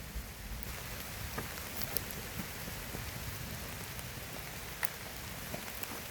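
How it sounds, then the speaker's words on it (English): Steady rain falls on a forest trail near a suspension bridge over a river, a soft even hiss with scattered faint drop ticks and no voices. "it's raining on us now"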